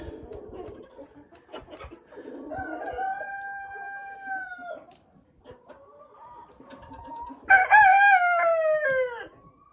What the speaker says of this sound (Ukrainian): І це півник гарний.